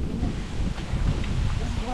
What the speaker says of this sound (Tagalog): Hangin mga idol, malakas yung hangin.